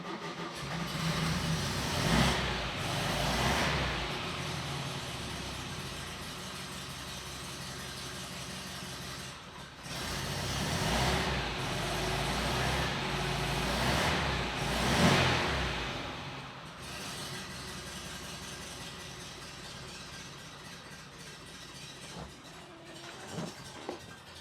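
Porsche 356 with a 6-volt system, engine idling very low and uneven, steady rumble with a couple of brief swells as it is blipped, heard close and alone.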